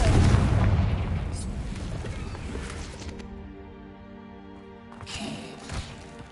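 A Confringo fire spell explodes in the Hogwarts Legacy video game, a loud booming blast with rumbling decay that fades into a quieter game soundscape before another burst of noise.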